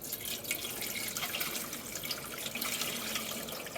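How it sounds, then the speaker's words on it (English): Water pours steadily into a canning pot set up for canning clams, a continuous bright splashing and gurgling stream that stays close and fairly quiet throughout, with no talking. "let's get water dumped in here"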